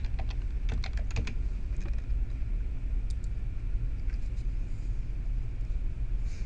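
Typing on a computer keyboard during a search for articles on conflict management: bursts of quick, close keystrokes, clustered early then sparse, over a steady low background hum.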